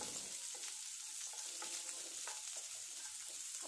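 Okra masala fries in a hot pan, giving a dense, even sizzle that holds steady and close for the whole stretch, with faint stirring scrapes and no voices.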